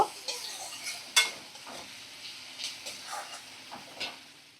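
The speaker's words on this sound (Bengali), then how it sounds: "এবার ভালো করে 5-7 মিনিট আমি সমস্ত কিছু ভাজা করে নেব।" Potatoes and a fish head frying in a pan give a faint sizzle, broken by light scraping and clinks of a spatula against the metal at irregular moments, with no voices.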